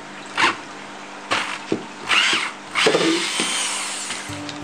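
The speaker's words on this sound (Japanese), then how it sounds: "ドリルで穴を開けました。" Short bursts of a power drill whirring into driftwood, several starts and stops, close and loud with brief pauses between.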